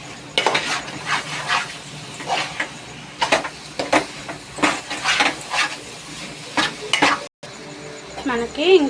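Grated coconut is stirred and fried in jaggery syrup in a pan for coconut laddus. A spoon scrapes in repeated, uneven strokes over a soft sizzle, close up.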